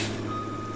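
A truck reversing in Farming Simulator 19 sounds its loud backup beeper as a steady tone close by, over a low engine hum, with no talk.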